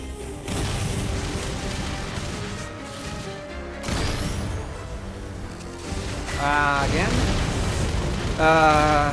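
Bombs burst in the shoot-'em-up Raiden V, with deep booming blasts rolling over dense game music and effects, a loud crash near the start and more near the end, while someone talks over the action.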